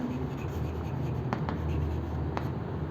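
Chalk or marker scratching out notes on a classroom board, steady continuous writing strokes with a few sharper taps, close and moderately loud, with no talking.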